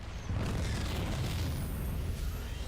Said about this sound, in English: what a sick explosion animation